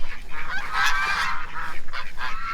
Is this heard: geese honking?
yes